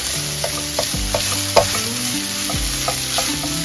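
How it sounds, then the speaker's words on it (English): Bacon frying fast in a frying pan over high heat, a loud steady sizzle with scattered crackles and pops throughout, close by with no voices. "Well, I'm cooking this bacon, and I can smell it now."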